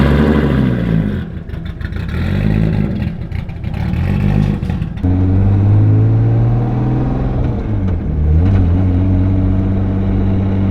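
A big-turbo 2JZ-swapped FRS idles loudly up close, its rough, deep engine note shifting midway into a heavier, steadier rumble with revs rising and falling.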